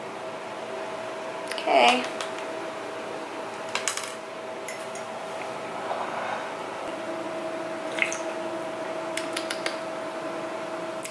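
A spoon stirs coffee in a cup, making a few scattered light clinks and scrapes over a steady faint hum. A person briefly speaks.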